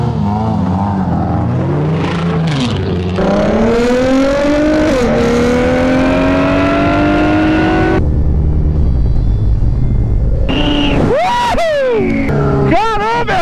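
A Nissan GT-R R35 and a CB 1000 motorcycle accelerate hard in a street race, loud close engine notes climbing through repeated gear changes, steady rising pitches broken by shifts, with excited voices shouting over the roar.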